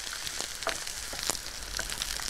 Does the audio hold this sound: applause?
no